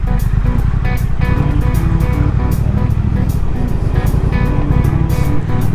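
Triumph Thruxton R motorcycle engine roaring steadily while filtering through traffic, loud and close with constant wind rush and a sustained throbbing drone.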